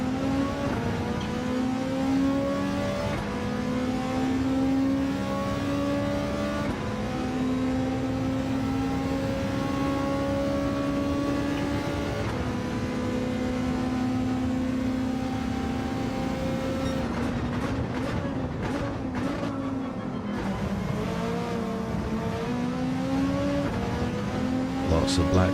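Race car engines roar continuously in a Gr.3 race in a racing video game, their pitch rising and falling through gear changes, while a commentator talks over the steady engine noise.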